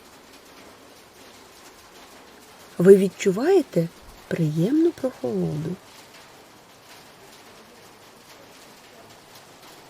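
Soft, steady rain patters throughout, while someone speaks calmly for a few seconds in the middle.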